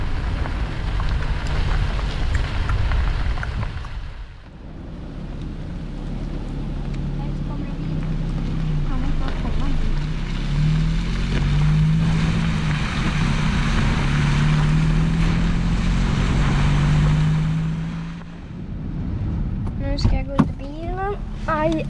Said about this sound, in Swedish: Hårda regndroppar.